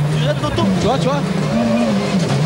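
Peugeot 206 WRC rally car engine revving and dropping as the driver brakes while accelerating, loud close onboard drone with rising and falling pitch sweeps, someone talking over it.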